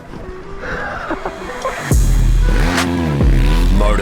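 Dirt bike engine revs hard and close, with rising and falling harmonic sweeps repeated twice over a steady rumble, starting loud about halfway through after a quieter mechanical patter.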